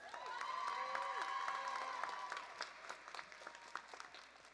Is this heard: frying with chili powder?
no